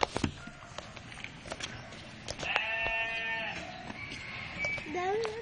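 Goats at a zoo bleating in several short, wavering cries, fairly close, mixed with people chatting nearby.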